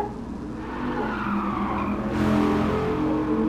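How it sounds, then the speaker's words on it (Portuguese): A Dodge Viper SRT10 with its 8.3-litre V10 in Gran Turismo Sport roars loudly and steadily, with tires skidding and squealing as the car slides, swelling louder about two seconds in. "Ó o V10 roncando maravilhoso."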